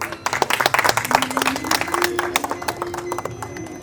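Applause from an audience of children at an outdoor Independence Day school celebration, a dense, uneven patter of many hands clapping continuously throughout, moderately close.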